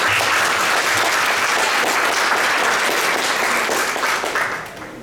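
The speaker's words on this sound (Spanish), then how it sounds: "Un aplauso también para ella." Sustained, loud audience applause at a public forum with a former minister and a regional governor, dense and steady throughout before tapering slightly at the end.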